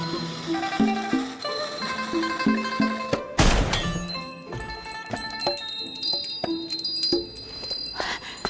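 A thrown object strikes a hanging wind chime, setting off a sudden bright metallic crash that rings out into shimmering, overlapping tones, with plucked, tinkling music before and after.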